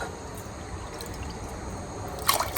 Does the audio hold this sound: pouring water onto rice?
yes